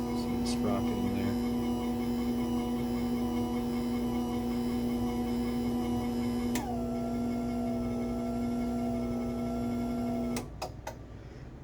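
Overhead Door 4040L garage door opener running the door down, a steady loud motor hum with a whining drive tone that shifts partway through, then cuts off near the end with a few clunks.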